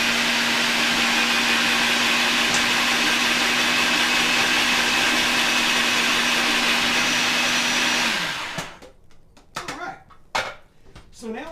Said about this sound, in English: I want to get the rest of the stuff blended in here